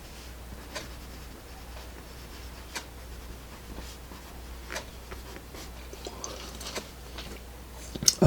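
Listo grease pencil scratching across paper in short, quiet strokes with scattered light taps, close and dry against a low background hum, with no one speaking.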